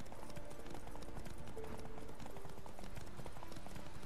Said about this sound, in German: unser Pferd Klötze hält das Tempo durch